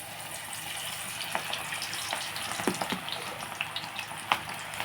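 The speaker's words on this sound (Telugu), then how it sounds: "ఆయిల్ హీట్ ఎక్కింది మనం ఇప్పుడు ఇవి పకోడీలా వేసేసుకుందాం" Cabbage pakoda fries in hot oil with a steady bubbling sizzle, broken by scattered sharp pops and crackles, close by and with no talking.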